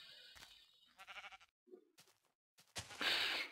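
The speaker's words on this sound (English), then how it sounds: "Oh, another sheep. Come here, sheep." Sheep in Minecraft bleat several times in short wavering bursts, loud and close, separated by brief silences, with one final longer bleat trailing off.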